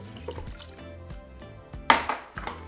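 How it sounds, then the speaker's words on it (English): Chicken broth or water is poured into a blender holding onion, garlic, cumin, black pepper and chicken bouillon for a noodle soup sauce. A quiet kitchen setting gives way to a short, splashy liquid pour near the end, alone and close. "and our 2 cups of chicken broth or water."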